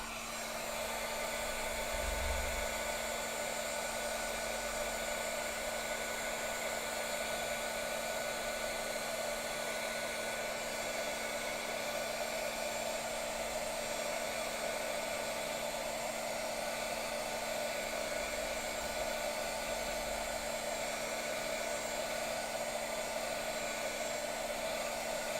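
Steady, continuous whir of a heat tool blowing hot air onto stamping foam, an unbroken close drone lasting throughout with no talking.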